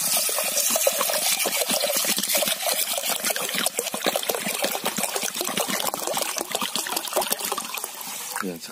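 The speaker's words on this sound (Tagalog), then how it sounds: "So, lagyan natin ng tubig." Water poured from above into a clay pot of mung beans, a continuous splashing, trickling stream close by for several seconds, ending abruptly.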